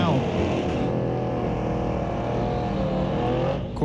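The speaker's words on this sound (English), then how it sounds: "Corvette crosses the finish line" Loud drag strip engine roar from a Corvette and a turquoise 1966 Chevy wagon racing to the finish line, a steady high-revving blare that fades slightly at the end.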